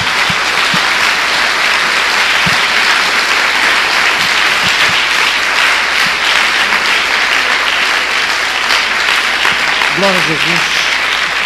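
A church congregation claps loudly and continuously for over ten seconds, a dense, even roar of hands, while a voice calls out over it near the end.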